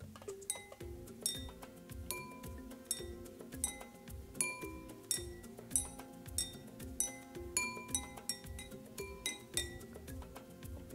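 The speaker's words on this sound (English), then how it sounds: "if I gently strike the glass with the end of my paintbrush" The end of a paintbrush tapping a water-filled glass, giving a long series of bright ringing clinks with sustained tones, repeated steadily and fairly faint over about eleven seconds.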